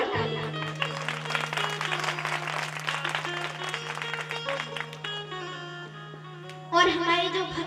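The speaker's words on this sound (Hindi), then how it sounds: "ऐसी भक्तिमती माताओं के लिए एक बार जोरदार तालियां।" Applause from a devotional gathering at a Bhagwat Katha in Bisapur Kalan, Chhindwara, rises as steady dense clapping over a sustained low hum and music, fading slightly before a fresh burst near the end.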